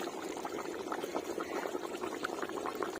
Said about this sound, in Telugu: ఇప్పుడు మూత పెట్టుకొని ఒక 15 నిమిషాలు బాగా ఉడికించుకుందాము